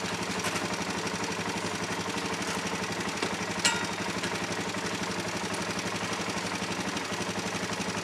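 A 2003 Suzuki LTZ 400 ATV engine idles steadily after a cold start with the choke fully off, a close, even, continuous putter with one brief clatter midway.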